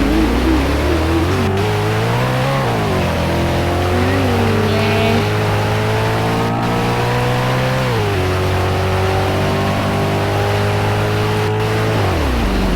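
A motorbike engine revs loudly and continuously, its pitch rising and falling as the rider shifts through the gears, running alone with no talk.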